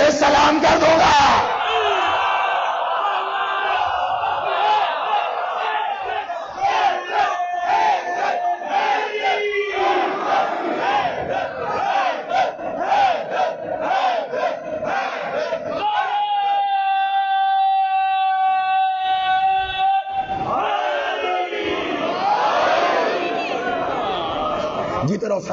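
Mourners at a Muharram majlis in an imambargah chant slogans together, a dense crowd roar of many voices rising in waves with shouted cries, loud and close throughout, one stretch giving way to a single sustained voice.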